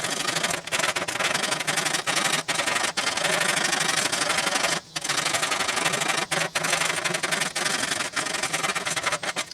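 Fine sanding on a handmade shield, a steady broadband rasping scrape that runs almost continuously at close range, broken by a few short pauses between strokes.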